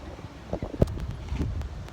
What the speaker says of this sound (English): We got the wind blowing pretty hard now.